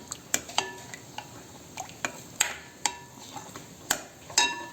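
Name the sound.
mixing yogurt with salt and cumin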